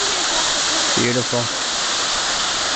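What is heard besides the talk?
creek fed by waterfalls flowing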